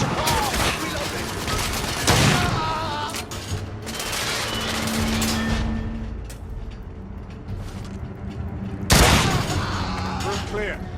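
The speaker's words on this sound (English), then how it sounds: "That coach gun's tearing us apart!" Coach gun gunfire in The Order: 1886, heavy blasts booming close amid a running fusillade, with loud bursts near the start and again toward the end under shouted voices.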